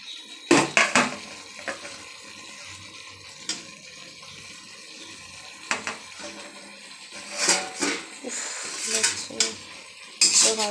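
Metal spoon scraping and clanking around a cooking pot while food is stirred, with sharp irregular knocks against the rim and a faint sizzle in the background.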